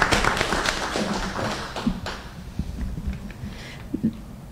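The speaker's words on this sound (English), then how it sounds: "Ms. Bustamante, a round of applause to you for putting together this clinic" A small group at a school district board meeting claps for the clinic organiser: brisk, close hand claps that thin out after about two seconds into scattered taps and thuds, with no talking.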